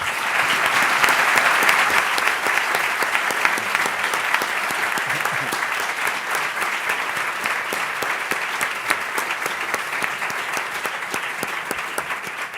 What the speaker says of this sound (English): request for him a strong round of applause